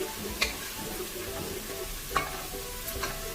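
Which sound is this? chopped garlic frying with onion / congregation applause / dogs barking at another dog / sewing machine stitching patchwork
chopped garlic frying with onion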